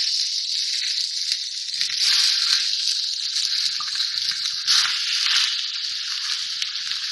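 Mutton dropped into a hot karahi pan for a restaurant-style mutton makhni karahi sets off a loud, close, continuous sizzle, surging briefly around two and nearly five seconds.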